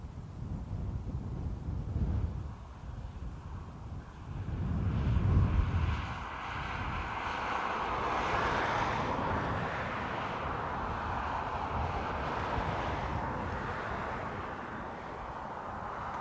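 An Aer Lingus jet departing toward Malaga, its broad engine roar rumbling at distance with wind buffeting the microphone, swelling and holding steady throughout.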